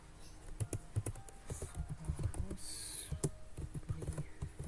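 Keys clatter on a computer keyboard in quick, uneven bursts of clicks, close and moderately quiet, with soft background noise throughout.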